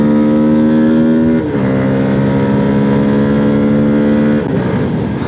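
Voge FR150 motorcycle fitted with a Tuneboss ECU accelerating on a test ride, loud close engine tone climbing steadily in pitch, with two brief dips at gear changes before rising again.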